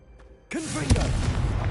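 Confringo blasting spell from Hogwarts Legacy: after a near-silent start, a sudden whooshing burst erupts, with a heavy boom just after, then a loud, sustained crackling roar that carries through to the end.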